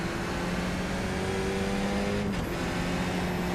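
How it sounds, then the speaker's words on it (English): Racing car fitted with a Super Trap exhaust during a motorsports event, a steady droning engine note held at a constant pitch that shifts briefly partway through, loud and continuous with no talking. "They still got the Super Trap exhaust on."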